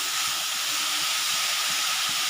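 Banana flower cooking with meat steams in a covered pot, giving a steady, close hiss that holds evenly throughout with no talking.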